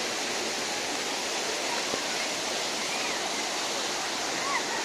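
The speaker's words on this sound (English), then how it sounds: "This stream becomes part of Dahisa river." A stream in Sanjay Gandhi National Park, Mumbai, that feeds the Dahisar river, gives a steady broadband rush of flowing water throughout, close and continuous, with faint distant voices beneath.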